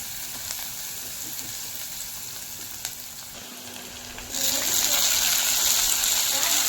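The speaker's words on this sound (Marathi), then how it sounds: "हे सर्व चांगला कलर येऊपर्यंत भाजून घ्यायचं आहे." Upma ingredients with onion roasting in a pan, a steady close sizzle and hiss of frying that grows noticeably louder and brighter partway through, with faint scraping of a spoon and no talk.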